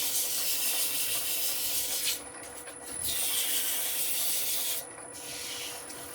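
Abrasive sanding against a spinning wooden bowl on a lathe turning at slow speed, smoothing rough raised grain. A steady close hiss of friction runs throughout, briefly dipping twice where the paper lifts off.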